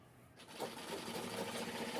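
Sewing machine stitching a zip onto a saree cover, starting after a short quiet moment and then running as a quick, steady, close whirring hum until the end.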